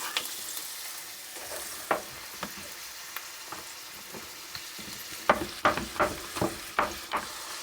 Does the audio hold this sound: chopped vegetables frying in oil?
yes